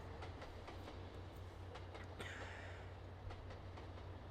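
Simulated train rolling along rails in Trainz Simulator 2 at low speed, a steady low rumble with faint intermittent clicks and a brief higher hiss midway, continuous and fairly quiet.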